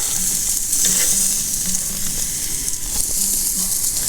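Steaks sizzling loudly on a camping gas grill, a constant close frying hiss with crackling pops and a faint low hum, steady throughout the short stretch.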